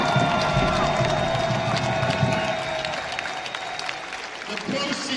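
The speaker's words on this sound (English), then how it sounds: "give him another round of applause." Applause and cheering from an audience at a testimonial event, a broad wash of clapping and crowd noise that fades slightly midway, with voices murmuring underneath.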